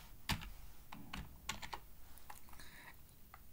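Fingers typing HTML code on a computer keyboard, quiet close clicks in uneven bursts with short pauses between keystrokes, with no talking.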